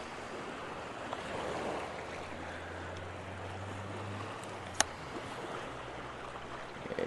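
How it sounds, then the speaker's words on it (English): Ocean surf washes steadily against a rocky shore at sunset, a constant broad rushing hiss of waves at moderate distance with one faint sharp click partway through. "I don't want the waves crashing over the camera"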